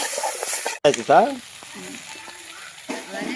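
Spices such as garam masala and coriander powder fry with vegetables in a hot pan for veg manchurian: a loud close sizzle, then a brief stirring clatter, softening to a quieter crackle.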